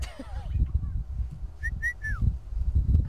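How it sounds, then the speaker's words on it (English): A cuckoo calls during an evening safari drive in Jordaan, giving three clear, slightly falling whistled notes at moderate distance over the low rumble of the vehicle and a brief murmur of voices. "Ooh, very interesting cuckoo."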